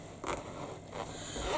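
A zipper is pulled along a sewn Loule fabric bag in a few short, scratchy rasps that sound close and crisp with no talking.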